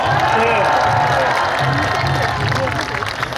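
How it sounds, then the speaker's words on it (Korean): A large crowd at a Korean presidential campaign rally in Daegu for candidate Kim Moon-soo applauds and cheers in a dense, continuous roar. Voices are mixed into the crowd noise. "시민 여러분 다시 한번 뜨거운 박수로 맞아주시기 바랍니다."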